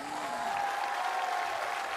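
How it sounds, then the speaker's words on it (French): Sustained audience applause fills a political rally hall in Valence, a dense steady wash of clapping at even loudness throughout. "je voulais que nous commencions par applaudir toutes celles et ceux sans qui cet événement n'aurait jamais été possible"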